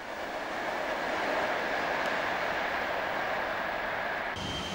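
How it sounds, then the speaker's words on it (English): Norwich Express passenger train, a Mark II driving van trailer leading and a Class 90 locomotive pushing, rushing past near Manor Park with a loud steady roar of wheels and rail noise that cuts off abruptly at the end. "Approaching Manor Park, the Norwich Express is led by a Mark II driving van trailer and pushed by a Class 90 in the new 1 livery"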